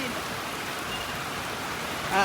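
Steady rain falls on the ground and surfaces around a fish seller at work outdoors, a dense continuous hiss with a brief louder burst at the end, with faint voices in the background.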